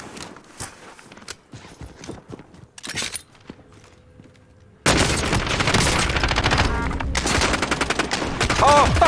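Call of Duty Warzone firefight: scattered gunshots and footsteps give way to sudden loud, sustained automatic fire with rapid repeated bursts, close and dense.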